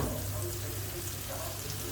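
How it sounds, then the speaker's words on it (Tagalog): Tomato, onion and garlic sauté in a pan, a steady dense sizzle of frying that carries on without a break at close range, with no voices over it. "After 20 seconds na paggigisa ng kamatis, sibuyas, bawang"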